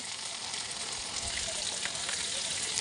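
Sliced onions and chopped tomatoes frying in a pan for a rohu fish mustard curry, giving a close, steady hiss of sizzling with faint stirring and no voices.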